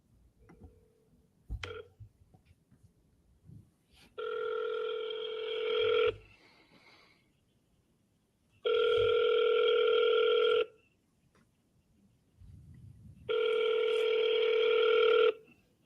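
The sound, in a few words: telephone ringing on an outgoing call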